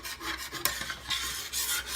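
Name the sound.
scraping bits off the bottom of a cooking pan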